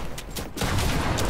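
Video game gunfire comes as a dense, fast volley of shots. It thins briefly, then returns as a loud, continuous rattle that fills the short stretch, with no voices over it.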